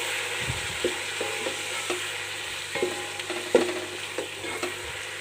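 Soy sauce, chili sauce and vinegar are stirred together in a pan, with a spoon scraping and tapping in an irregular rhythm over a faint sizzle. The sounds are close and moderately quiet, and no one speaks.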